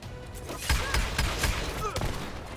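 Gunfire in the shooter game Dirty Bomb, several sharp shots spaced across a couple of seconds over a busy game background, with a voice talking at times.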